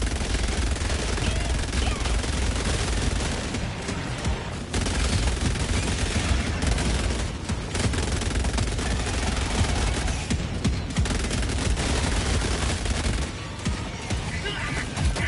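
Support weapon gunfire in Helldivers 2 rattles on in sustained, rapid bursts, loud and close, with brief pauses between volleys and a voice occasionally talking over the shooting.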